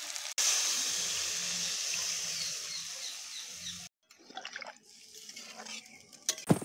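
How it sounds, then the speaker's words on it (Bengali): Pre-warmed hot water pours steadily into a potato and pointed gourd curry cooking over a wood-fired clay stove, a continuous rushing splash for about four seconds before it stops, leaving quieter clatter and bubbling. "এবার আমি আগে থেকে উষ্ণ করে রাখা গরম জলটা দিয়ে দেব।"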